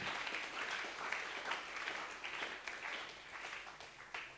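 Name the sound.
congregation applauding in church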